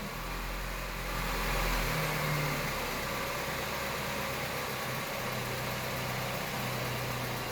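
A car engine, monitored with narrow-band and wide-band oxygen sensors, gets a light rev that rises briefly and then settles into a steady, even idle hum for the rest of the clip.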